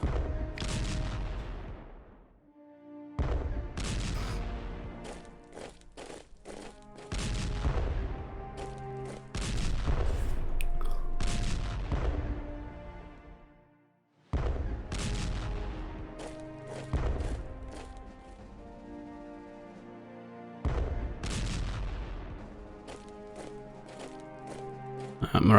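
Repeated bursts of gunfire and heavy artillery booms from a World War I tank battle in the strategy game Strategic Command WW1, loud and continuous with short gaps between salvos and no talk over them.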